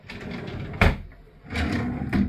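A drawer in a Carnival Miracle cruise ship cabin slides open and shut nearby, two sliding rumbles each ending in a sharp thump, with no talking.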